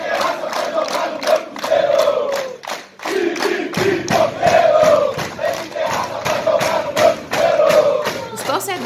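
Protesting football fans chant outside Cruzeiro's training ground, Toca da Raposa: a loud crowd repeating a rhythmic chant in surging phrases, voices ringing together over a steady outdoor background, with a brief dip midway.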